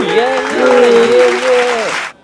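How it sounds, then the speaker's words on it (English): A small-town crowd applauding outdoors, a burst of clapping mixed with loud cheering voices that carries on for about two seconds and then cuts off. "the whole town gathered outside to applaud McCoy for bringing the two children safely back into town"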